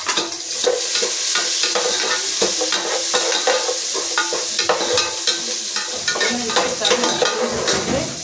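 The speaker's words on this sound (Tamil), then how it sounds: "வெங்காயம் போட்டுட்டேங்க." Sliced onions frying in a hot pan, a loud continuous crackling sizzle with frequent scraping and stirring clatter throughout, close up and unbroken by speech.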